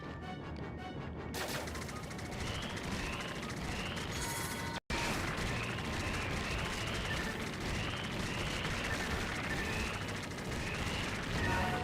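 Machine gun fire in a Wii light gun shooting game, a loud, continuous rattle of rapid shots with explosive crashes mixed in, broken by a momentary gap before the barrage resumes, with faint talk underneath.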